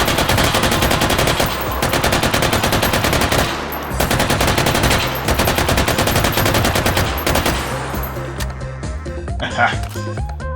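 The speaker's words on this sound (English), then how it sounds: "very satisfying to shoot a light machine gun" An M249 SAW light machine gun fires in the VR shooter H3VR. Loud, rapid automatic bursts run almost without a break, with short pauses, then taper into a fading ring-out.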